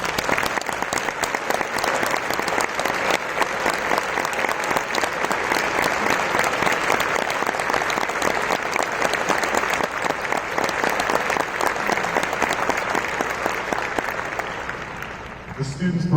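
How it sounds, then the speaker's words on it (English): An audience at an Illinois music education event gives broad, continuous applause to the ILMEA staff and board, a dense, even wash of clapping that lasts the whole stretch with a voice faintly underneath near the end. "accept our applause as a symbol of thanks for your dedication to music"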